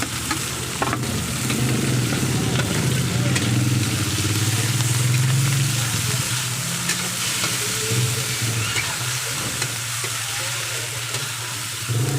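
Onions, carrots, ginger and garlic sizzle loudly in hot oil as they are stirred for pork escabeche, a continuous close frying hiss with scraping strokes and a low engine-like hum beneath.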